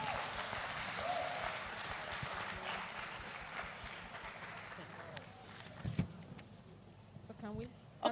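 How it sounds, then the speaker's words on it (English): Audience applause at an annual autism conference after a presentation, a dense steady patter of clapping that gradually thins out toward the end, with a few voices and scattered noises mixed in. "I thank you for the applause"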